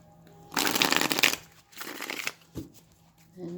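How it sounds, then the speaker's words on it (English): Tarot cards riffle-shuffled twice in quick loud bursts, followed by a soft tap of the deck and light handling. "I like to shuffle it this way as well if I'm going to be doing reversals"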